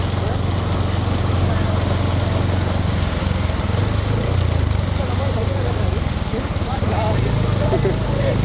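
A bull charges during a village bull run in Kadiyapatti, Tamil Nadu. Its clattering hoofbeats run steadily under a constant wash of engine noise and loud, excited shouting from the crowd.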